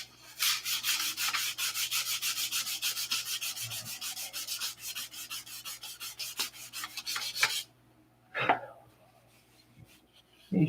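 Shaped aircraft flaps are sanded by hand in rapid, rhythmic back-and-forth strokes, close and loud for several seconds. The strokes then stop, followed by a few faint knocks and scrapes.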